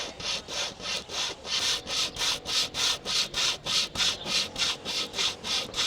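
A hand saw cuts through wood with about fifteen steady back-and-forth strokes, each a rasping burst in an even rhythm, loud and close with no talking.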